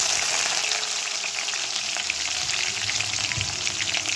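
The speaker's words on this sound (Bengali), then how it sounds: "তারপরে আমি এর মধ্যে একটু অল্প করে পেঁয়াজ দিয়ে দিচ্ছি" Onions sizzle steadily in hot oil with panch phoron for a nenua and prawn dish, a dense, continuous frying crackle heard alone and up close.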